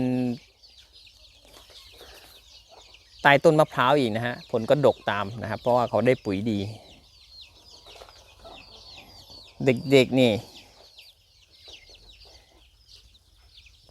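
Free-range village chickens cluck in a backyard coop next to coconut palms, with several short bursts of clucking and a longer later burst, heard under someone talking nearby.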